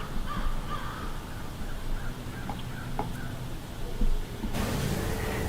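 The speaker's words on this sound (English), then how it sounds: "You've got the blackbird in the top of the viewfinder" A blackbird perched near the camera during a live Illinois shotgun-season deer hunt calls in short harsh notes over steady outdoor background noise, with a louder burst of rushing noise near the end.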